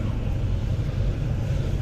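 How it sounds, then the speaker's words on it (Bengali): A trawler boat draws near a river launch ghat in flood season, heard as a steady low engine drone with wind and water rush, constant and moderately loud throughout. "ট্রলার আসছে, এই ট্রলারের সাহায্যে লোক করবে, কারণ পন্টন নেই এখানে।"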